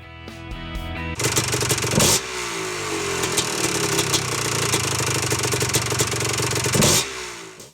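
A small engine on a 1988 Honda Fourtrax 250R ATV revs and idles close by, rising to louder bursts of throttle and falling back, with a sharp burst near the start and another near the end.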